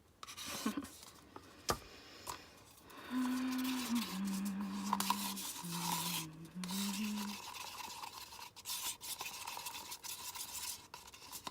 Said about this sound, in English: I can stir this one all I want because there's no dimethicone in it